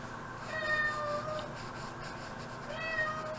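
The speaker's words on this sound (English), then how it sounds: "It's my cat." Cat meowing indoors, two short, fairly faint meows about two seconds apart, alone with no talk.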